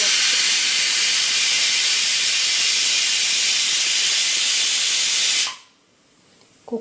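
A loud, continuous hiss of steam escaping from a pressure cooker, steady for several seconds before cutting off abruptly.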